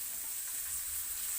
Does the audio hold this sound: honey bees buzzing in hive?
no